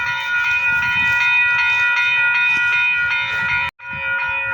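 A train rolls past close by at steady loudness, with an intermodal freight train nearby. A sustained multi-tone horn or whistle drones over continuous wheel rumble, then a brief dropout and the noise resumes.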